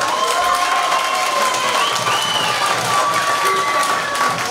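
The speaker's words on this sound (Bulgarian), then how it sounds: "за трето място да го пляскаме" An audience at a village New Year's ball in Mengishevo claps for the third-place contestant, a sustained burst of loud applause and crowd noise with voices talking over it throughout.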